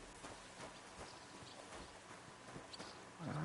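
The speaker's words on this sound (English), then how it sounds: "that's a pretty horse, too" A horse's hooves clip-clop at an even walking pace in the Kingdom Come Deliverance 2 video game, faint against a soft rain-like outdoor ambience, with no speech.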